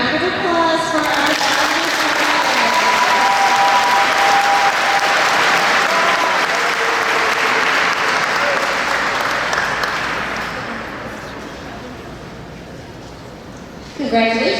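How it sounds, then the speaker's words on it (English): A large audience at an eighth grade graduation ceremony applauds loudly and steadily, the clapping fading toward the end before a voice starts speaking. "one more big round of applause for our"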